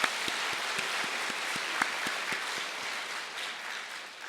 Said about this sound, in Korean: 우리 주님께 영광의 박수 한번 올려드리겠습니다